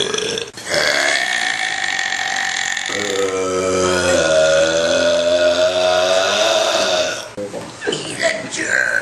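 Loud, drawn-out burps rumble on for several seconds, with a brief vocal break and another burst near the end.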